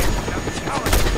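Rapid gunfire in the Just Cause 2 video game, a continuous loud barrage of shots running through the whole moment with a burst of heavier reports near the end, layered over dense in-game action.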